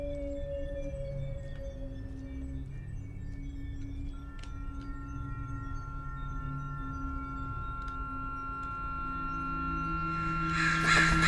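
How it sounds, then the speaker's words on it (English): A crow caws in the video game The LightKeeper, faint calls over a low ambient drone and tonal game music that swells louder toward the end. "That was a really big bird."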